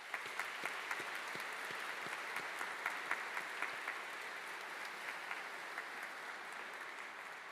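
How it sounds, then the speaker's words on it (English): A PhD graduation ceremony audience applauds steadily, a dense, even patter of many hands, with sharper claps standing out through the round. "appreciation with a round of applause."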